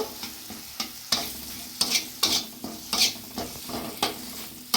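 Beans coated in spice masala are stirred and sautéed in a pan, with sharp scraping strokes of the spoon recurring in a steady rhythm over a soft background sizzle, close and clear with no talking.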